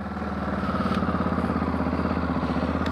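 A motorcycle engine idles while the rider parks at a hotel in Argentina, a close steady low putter with a regular pulsing beat and slight mechanical clatter, holding even throughout.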